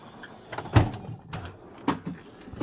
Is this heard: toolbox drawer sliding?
yes